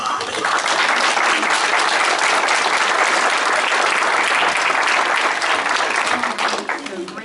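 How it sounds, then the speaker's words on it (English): A school awards audience claps in a dense, sustained round of applause that starts at once, stays loud and even, and tapers slightly at the very end. "So let's give them all a big round of applause."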